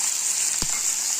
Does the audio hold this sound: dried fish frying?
yes